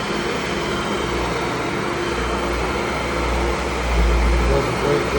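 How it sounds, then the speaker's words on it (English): A Tennant medium-sized commercial vacuum cleaner runs steadily and loud, a continuous motor drone with a low rumble that swells slightly near the end. "It's a great medium sized vacuum cleaner to do bigger areas faster."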